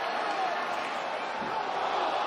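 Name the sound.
arena crowd cheering at UFC fight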